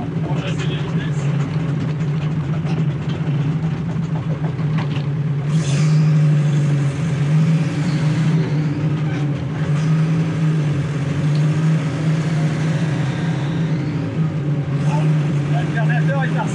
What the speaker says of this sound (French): Double débrayage avec accélération pour chasser les vitesses